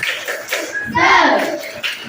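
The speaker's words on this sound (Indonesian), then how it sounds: "Tepuk semangat." Classroom children perform a rhythmic spirit clap, a short burst of hand claps mixed with their chanted voices, close and fairly loud.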